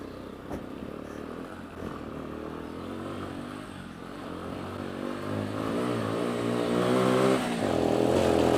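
Motorcycle engine labouring up a steep green lane, revs rising steadily and growing louder toward the end, heard close from the bike over rough ground.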